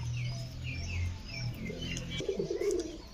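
Pigeons and young pigeon chicks cooing inside a small loft, with low, steady coos overlapping close by and some higher chirps and calls mixed in.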